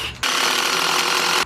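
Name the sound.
power drill driving screws into pressure treated wood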